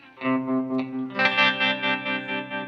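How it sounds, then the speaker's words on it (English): Electric guitar running through a Walrus Fundamental tremolo pedal, a sustained chord chopped into a steady, rapid pulsing throb that repeats evenly for a few seconds, close and fairly loud, with no talking. "See how it gets that really funky chop?"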